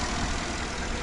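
The 6.2-liter V8 of a Cadillac Escalade luxury pickup idles steadily in a short, even, low rumbling hum with no talk.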